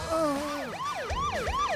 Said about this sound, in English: Sirens wailed and blue lights flashed.